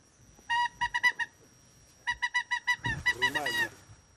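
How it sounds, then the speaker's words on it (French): Loud honking calls of greater white-fronted geese arriving at dawn in the Danube region, in quick repeated bursts, a short run, a pause, then a longer volley, fairly close. "on va attendre le jour pour voir les premières oies arriver"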